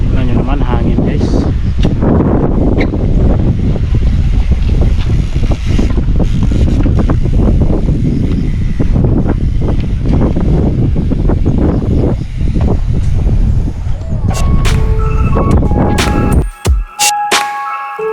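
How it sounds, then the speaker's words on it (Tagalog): Wind blowing outdoors at a hillside hangout in Busay, Cebu, buffets the microphone as a loud, continuous rumbling roar for the whole stretch, with a few faint clatters near the end. "Tingnan nyo naman, hangin guys."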